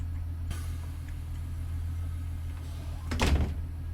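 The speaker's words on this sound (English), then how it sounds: "Let's get the interior sounds of the doors closing." In Train Sim World 4, the interior doors of a Class 142 Pacer railbus slide shut with a short burst of mechanical clatter and thud near the end, over a steady low engine idle.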